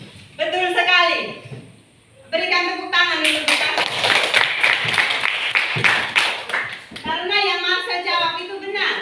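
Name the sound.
class applauding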